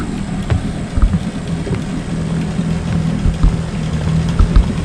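A 1963 10 HP Johnson Seahorse outboard motor idles on a bayou during a test run after repair, a loud, steady low rumble with slight uneven pulsing close to the microphone.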